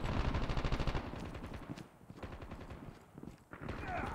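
Rapid gunfire from a Call of Duty match, including sniper rifle shots, comes as a dense burst of loud, close repeated cracks, then quieter scattered shots and movement, with game voice callouts mixed in.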